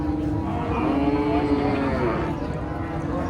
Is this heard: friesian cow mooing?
yes